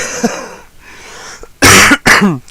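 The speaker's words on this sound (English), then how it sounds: "so I apologise if I cough" Two loud, harsh coughs from a man with a cold, close to the microphone, one right after the other, preceded by a quieter breathy sound.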